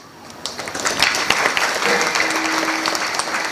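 An audience at a Gopal Kala kirtan in Bavi bursts into applause, a dense wash of many hands clapping that swells and holds steady, with a faint voice briefly audible underneath.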